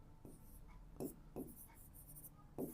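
Pen writing on paper in short strokes, a few scratchy bursts spaced about a second apart, quiet and close, with no speech.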